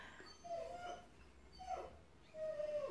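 A pet dog kept downstairs gives soft, high whimpers and whines in three drawn-out bursts, fairly quiet and slightly distant, with no voices heard.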